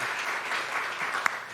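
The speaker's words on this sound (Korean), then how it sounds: "환영의 박수 하도록 하겠습니다." Church congregation claps in welcome during a Sunday worship service, a brief dense patter of hands at moderate distance with no talk over it.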